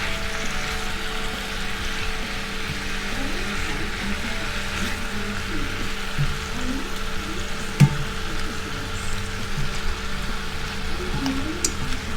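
Chicken wings fry in a crowded skillet with a steady, dense sizzle that holds at an even level throughout, broken by a single sharp clink near the middle.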